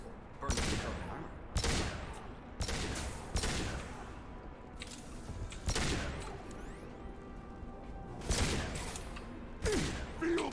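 A hand cannon fires in Mass Effect 2 as a run of sharp, heavy shots spaced about a second apart, each cracking loudly over a rumbling combat background.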